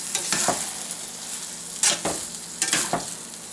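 Meatballs fry in a restored cast iron skillet, a steady sizzle broken by a few scraping stirs of the pan, close and fairly loud with no talk.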